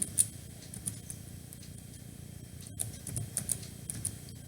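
Fingers type on a computer keyboard in light, irregular clicks, some in quick runs and others spaced apart, close and fairly quiet over a soft room hum.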